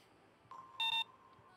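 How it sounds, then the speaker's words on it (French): An electronic gadget in the Arsène Lupin video game gives a soft blip, then two sharp, bright beeps in quick succession, short and clean over a faint background hum. "C'est trop jouissif d'avoir le bip bip là."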